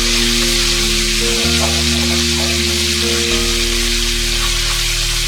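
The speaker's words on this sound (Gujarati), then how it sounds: "આદુ લસણનો કાચો ટેસ્ટ જતો રહે ત્યાં સુધી આપણે એને સાંતળી લઈએ." Ginger-garlic paste sautéing in hot oil for a Kathiyawadi cluster bean and potato curry, a loud continuous sizzle over a steady low hum, close and unbroken, with no voices.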